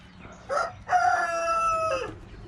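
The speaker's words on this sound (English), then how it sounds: "we can't have a mean rooster chasing us or Olivia around or anybody else around" On a small farm, a rooster crows once, loud and close, a single drawn-out cock-a-doodle-doo lasting just over a second after a short lead-in squawk, with faint background noise.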